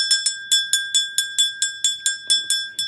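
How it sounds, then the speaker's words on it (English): A bright bell rings in quick repeated strikes, about a dozen sharp metallic dings in a steady rhythm, each decaying briefly before the next. "Let's ring this buzzer."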